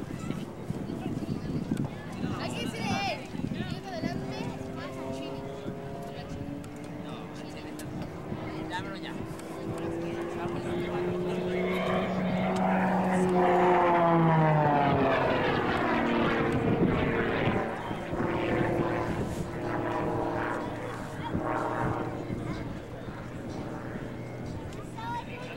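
A propeller-driven aerobatic airplane at the 2003 Kern County Airshow repositions and climbs for a torque roll, its engine drone rising and falling with a Doppler sweep as it passes, under an announcer's commentary.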